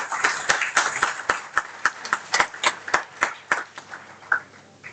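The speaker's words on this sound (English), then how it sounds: "So please give a huge round of applause." Audience clapping at a university conference inaugural ceremony: sparse, distinct hand claps repeating in a loose rhythm, fairly close and clear, thinning out toward the end.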